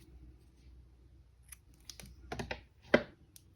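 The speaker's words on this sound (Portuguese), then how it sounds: "Já pode cortar esse fio preto" Scissors snip black yarn while an amigurumi Deadpool doll is being finished, a few soft rustles and small clicks leading to one sharp, close cut near the end.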